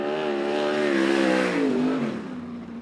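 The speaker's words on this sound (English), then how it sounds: "as you can hear, it sounds like he stalled out" A USAC race car's engine stalls on a qualifying lap at Central Arizona Speedway. The loud, close drone sags in pitch, then fades out over about three seconds.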